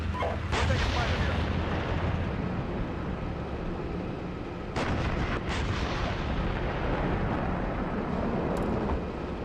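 Incoming fire in a military video game: a continuous dense roar of gunfire and rumbling blasts, loud and unbroken, with a few sharper cracks standing out.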